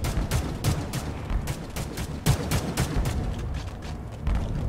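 Rocket impacts and blasts in the toy-soldier game The Mean Greens, a rapid string of loud, punchy bangs repeating almost rhythmically over a constant rumble of battle noise.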